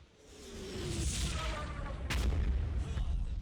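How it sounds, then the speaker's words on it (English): A mortar round lands and explodes with a heavy boom amid a continuous rumble of distant battle in the Combat Mission Fortress Italy war game, the impact standing out over layered gunfire and ambient noise. "Luckily, a mortar lands close enough to get him."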